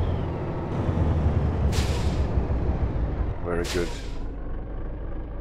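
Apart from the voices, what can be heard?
Volvo VNL 780 truck motor brake, Euro Truck Simulator 2 video game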